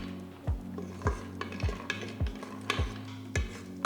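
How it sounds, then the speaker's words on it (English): Cashew nuts fry in a spoonful of ghee in an electric cooker on sauté mode. A faint, low sizzle sits beneath evenly spaced scraping taps of a spoon, about two each second. "To the electric cooker, add 1 to 2 teaspoons of ghee. Add a few cashew nuts."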